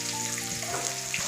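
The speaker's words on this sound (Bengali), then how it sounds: "আলুগুলো ভাজার সময় আমি এর মধ্যে অল্প হলুদ গুঁড়ো দিয়ে দিচ্ছি" Potato pieces frying in oil with turmeric powder and salt for chicken biryani, a brief, steady, dense sizzle heard close up, with no voices.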